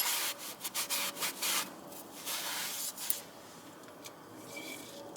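A cloth rubs and wipes across a front brake rotor from a 2013 Lexus IS250 during a pad and rotor job, giving soft, uneven scrubbing strokes close by, with no talk.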